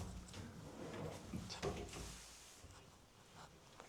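Built-in wardrobe door swinging open in an apartment room, with quiet wooden knocks and a soft slide of inner drawers, close and faint, no talk.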